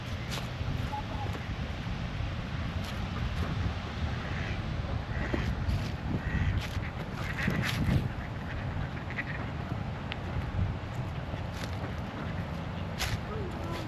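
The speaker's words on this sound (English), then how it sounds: "The ducks in the water." Ducks on the water at Silver Lake Park in Dover, Delaware, giving faint scattered quacks beneath heavy, steady outdoor wind and background noise.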